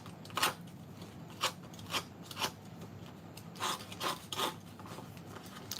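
Paper card edges being distressed by scraping, a series of short dry rasping strokes in an irregular rhythm, close and fairly quiet with no talking.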